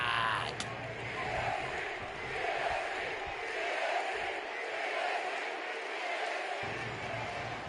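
A wrestling arena crowd in the WWE 2K26 video game keeps up a steady roar of cheering throughout, loud and continuous with scattered shouts, with a creaking ring-like thump near the start.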